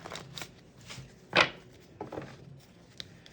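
Tarot cards are shuffled by hand at close range, with soft riffling and papery slides and one sharper burst of flicking cards, then lighter taps and rustles, all quiet.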